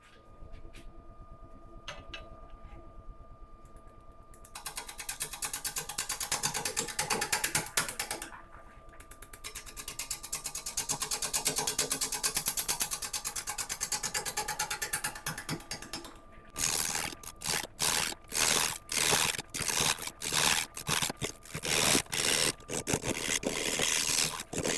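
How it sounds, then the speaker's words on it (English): An odd-shaped piece of wood spins on a wood lathe while pull cuts trim away its wings, giving a steady scraping, rasping drone that stops briefly and then turns into a rapid run of sharp rhythmic ticks near the end. "I'll just follow it using pull cuts, and we'll just start turning away these wings."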